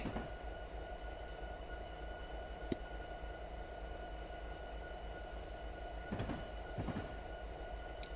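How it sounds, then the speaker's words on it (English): In the Train Sim Classic game, a lone locomotive slows to a halt with a low steady rumble and hum, a single metallic clank, and a couple of brief squeals and hisses near the end. "Now we want to stop as our train is just a locomotive. We'll use the independent brake."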